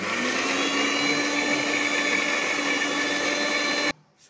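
An electric grinder whirring steadily as it blends poppy seeds, mustard and green chilli into a paste, a loud constant motor drone that cuts off abruptly near the end.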